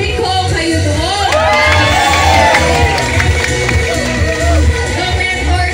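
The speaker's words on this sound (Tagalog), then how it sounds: "Humihina ang palakpak." An event crowd cheers loudly with shouts, whoops and scattered clapping mixed in, a dense, busy roar that swells and dips slightly throughout.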